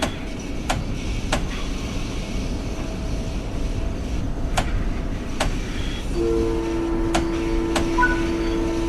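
An M9 commuter train on the Long Island Rail Road running in Train Sim World 4, a steady rumbling drone with sharp clicks and a tonal hum rising near the end.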